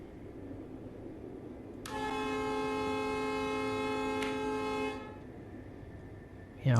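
A train in the Train Life railway simulator game sounds a steady, tonal horn for about three seconds over a low rolling rumble of the moving train, then the horn stops and the rumble carries on.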